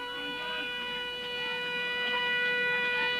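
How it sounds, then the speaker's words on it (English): Football ground siren ending a quarter at a grand final, a steady sustained tonal blare holding for the full few seconds, fairly faint and distant over crowd ambience. "That's the siren to end the quarter,"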